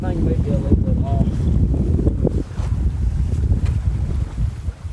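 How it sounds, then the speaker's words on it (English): Steady wind rushes and buffets the microphone aboard a Catalina 27 sailboat underway, a constant loud roar with low rumble and gusty swells throughout. "Wind's hitting there now."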